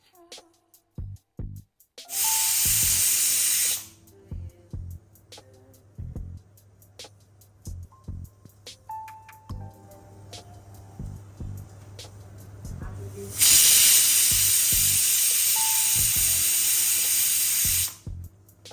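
A pressure cooker cooking tomato dal lets out two long, loud hissing whistles of escaping steam, each lasting a couple of seconds, separated by a stretch of quieter clicks, knocks and faint kitchen sounds.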